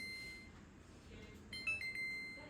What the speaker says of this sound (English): that's what the timer sounds like when it's going off